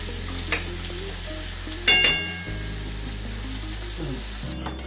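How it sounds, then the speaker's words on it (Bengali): Mutton curry simmers and sizzles softly in a pan on low gas while being stirred, with occasional scraping spoon clinks and a steady low hum throughout, no talking. "দেখো একদম গ্যাস ঢিমে তালে দিয়ে আমি কষাচ্ছি, দেখো একদম স্লো"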